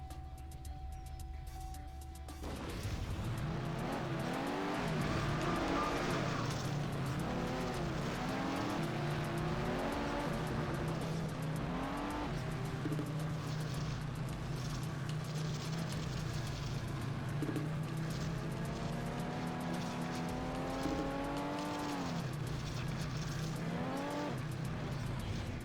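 A rally car in TrackMania United Forever roars continuously for about 23 seconds, its engine revving up and down through repeated rising shifts, with occasional tire squeal, loud and steady after a brief quiet start.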